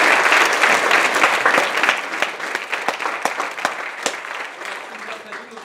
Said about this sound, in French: On remercie Lucas, la région, on peut l'applaudir.